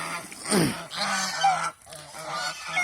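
Geese on a goose farm honk loudly and nearby in a few harsh, overlapping calls, with short pauses between bursts.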